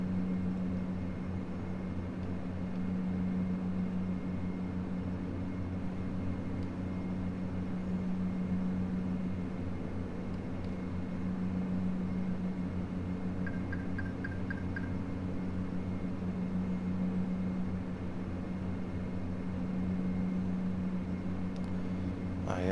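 Constant droning hum of Dash 8 turboprop engines climbing in a flight simulator game, an even steady tone throughout with faint brief beeps partway through.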